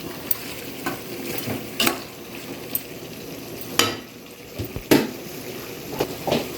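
Chicken biryani masala with cumin and coriander powder sizzles in oil in a pan while being stirred. Clear spoon scrapes and clinks repeat at irregular intervals over a soft, steady frying hiss close by, with no talking.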